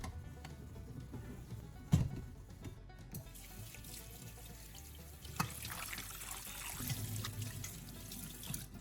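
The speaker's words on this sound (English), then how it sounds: "rinse the pan again under running water until it's completely clean" Tap water runs into a sink while an air fryer pan is rinsed, a faint steady trickle with a few soft knocks and splashes as the pan is handled.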